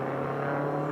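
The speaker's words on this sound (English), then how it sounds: "That Subaru engine is healthy. You can hear it throttling up the hill." A Subaru race car climbs the Pikes Peak hill climb course under throttle, its engine giving a continuous, even drone that holds steady for about a second with no voices over it.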